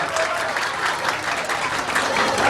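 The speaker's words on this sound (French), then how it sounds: "Vanessa Alexis, sous vos applaudissements, mesdames et messieurs." Audience applauding a contestant at the grand final of a school beauty pageant, a short burst of dense, steady clapping from a crowd.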